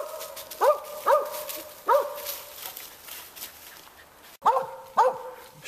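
A hunting dog barks at a raccoon up a tree outdoors, giving about five sharp, fairly close barks in two short bursts separated by a quiet gap.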